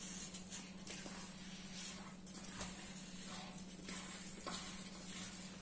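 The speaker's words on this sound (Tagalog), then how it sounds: "Hinahalo na natin. Medyo mahirap din maghalo." Sticky rice is stirred in thick coconut milk while cooking biko, giving a steady soft scraping and gooey sizzle with periodic heavier strokes, faint and continuous throughout, with no talking.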